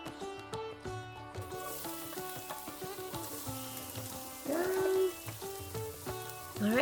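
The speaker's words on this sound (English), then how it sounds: "It requires the cumin seeds to sizzle first." Cumin seeds sizzling in hot oil in a pan, a steady bright frying hiss with crackles that swells louder near the end, set under soft musical background.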